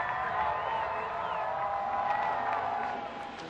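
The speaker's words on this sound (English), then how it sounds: "Listen to that crowd." A baseball stadium crowd at a Washington Nationals home game roars and cheers in a steady, dense wash of voices, with a broadcaster's voice faintly underneath.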